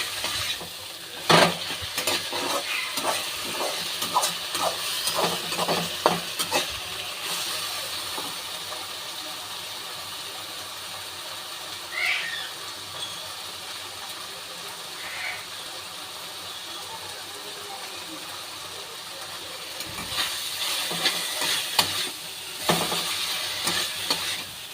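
Thick syrup bubbles and sizzles in a pan with snake gourd, loud clattering stirs bursting out at the start and again near the end, steady hiss and faint crackle in between.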